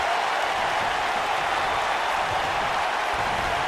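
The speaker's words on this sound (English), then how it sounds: "I don't remember the last time I heard a more passionate crowd than the one we have here tonight" Arena crowd noise from the wrestling video game WWE 2K19: a steady, dense roar of cheering fans that holds evenly for the whole stretch, with no voices standing out above it.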